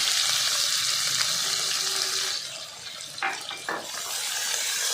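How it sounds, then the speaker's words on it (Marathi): Onion, mustard seeds, cumin and curry leaves frying in hot oil, a steady loud sizzle that dips and then returns, with a few clattering stirs near the end. "तेल गरम झालेलं आहे त्यामध्ये आता मोहरी जिरे टाकायचे आहेत थोडासा कढीपत्ता टाकायचा आहे बारीक चिरलेला कांदा टाकायचा आहे"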